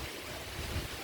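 Wind blowing across an open outdoor spot near a temple in Bhadrak, a steady broadband rush with low gusty rumble against the microphone, no voices.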